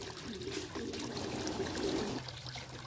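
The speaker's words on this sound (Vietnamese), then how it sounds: "chúng ta chỉ vặn cái vòi nước ra thôi" Water from an opened tap runs steadily at an ostrich enclosure, a continuous splashing and trickling stream at moderate level with no talk over it.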